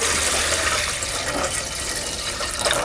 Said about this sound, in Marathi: त्यामध्ये आपण एक तांब्यावर आपण पाणी घालूया